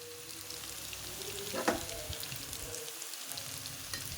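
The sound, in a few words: crushed garlic frying for stir-fried water spinach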